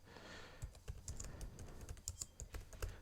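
Someone types a paragraph on a computer keyboard. The keystrokes are quiet, quick and slightly irregular, with a soft background hiss and no speech.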